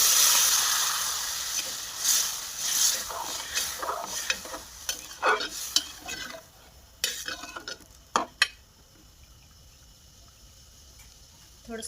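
Peas and paneer are stirred into fried masala in a pan, with repeated scraping spoon strokes over a soft sizzle, close and clear, the stirring growing sparser toward the end.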